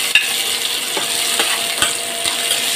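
Onions sauté in hot cooking oil with a steady, close sizzle and hiss, broken by a few light clinks and scrapes of a utensil stirring the pan.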